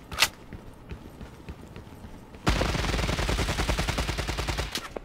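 Gunfire in the Lost Light shooter game: a single sharp shot early, scattered faint pops, then a sustained rapid automatic burst of evenly spaced close shots lasting over two seconds, ending with another distinct crack.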